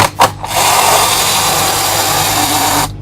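A steady whirring, grinding mechanical buzz from the wind-up mechanism of a Kamen Rider DX Genesis Driver toy belt runs for a few seconds after a couple of brief clicks, then stops abruptly, close and fairly loud.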